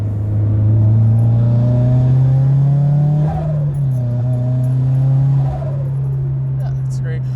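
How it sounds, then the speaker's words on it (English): An HKS-turbocharged Subaru BRZ engine revs up and settles repeatedly, a loud, close, droning growl that climbs and falls in pitch in several pulls. "The noises are amazing. The turbo spooling, I don't know if you guys can hear it."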